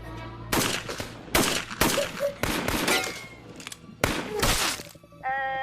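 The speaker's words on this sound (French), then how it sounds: "Je crois que j'entends des coups de feu." A string of loud, sharp gunshots rings out in irregular bursts, about half a dozen cracks with short gaps between them.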